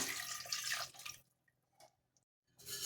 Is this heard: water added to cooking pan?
yes